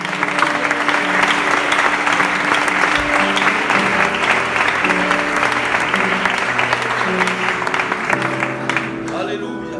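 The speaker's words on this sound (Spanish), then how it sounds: "Dale un aplauso al Señor." Church congregation applauding loudly, a dense sustained clapping from a large crowd in a hall, with voices and a low drone under it and the applause easing near the end.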